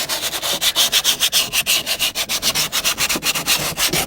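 Sandpaper worked by hand over the dashboard of a 1993–2002 Camaro Z28 produces loud, close, rhythmic rasping strokes, about five or six per second, repeated without pause and with no voices.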